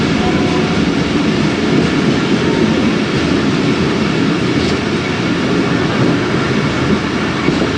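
Khyber Mail passenger train running at speed through foggy Punjab, a loud, steady roar of wheels on rails with rumbling carriage noise and faint rhythmic clatter, heard from on board.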